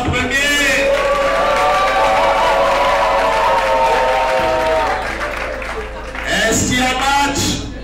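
Loud audience applause and cheering at a startup weekend event in Bafoussam, heard under a prominent speaking voice with music-like tones, the clapping easing midway then swelling again near the end.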